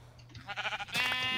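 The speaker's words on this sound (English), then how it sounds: "Sheep!" A Minecraft sheep bleats in-game: a short wavering bleat followed by a louder, brighter second bleat, close and clear with no talking over it.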